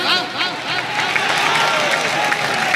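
Audience applause welcoming a poet on stage at an All India mushaira in Madhubani, Bihar: steady, dense clapping and crowd noise throughout, with voices calling out over it.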